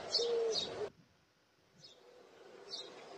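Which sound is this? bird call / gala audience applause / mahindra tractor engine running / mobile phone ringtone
bird call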